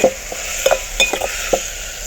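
Potatoes and onions fry in a pan while a utensil stirs them, a close steady sizzle broken by several quick scraping and clinking strokes.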